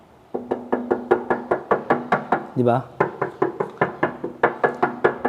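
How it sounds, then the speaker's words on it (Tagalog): Steady, hollow knocking on a Kawasaki ZX14R motorcycle's metal fuel tank, about three raps per second, close up, with a brief spoken interjection midway. "So ito yung fuel tank niya, hanggang dito, katukin natin."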